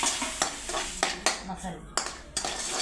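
Ingredients roast in hot oil in a pan while a spoon stirs, clanking against the metal in sharp, uneven strokes over a soft sizzle, close and clear.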